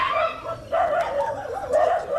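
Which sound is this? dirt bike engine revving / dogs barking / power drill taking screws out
dogs barking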